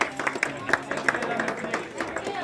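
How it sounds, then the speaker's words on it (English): A small gathering cheers for a shruti box player at an organic growers' event, with scattered hand claps and crowd noise over a steady murmur of voices, fairly close and moderately loud. "We want a round of applause for the Shruti box."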